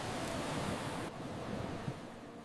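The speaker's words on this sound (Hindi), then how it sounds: "लहरें अब बेकाबू हो गई हैं।" Rough, churning sea waves surge steadily with a broad wash of surf and some wind buffeting, continuous and loud throughout with no voices.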